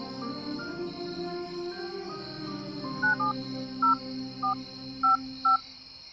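Several short, even beeps of phone keypad dialing tones sound one after another, clear but modest in level, over a steady background of chirping crickets at night.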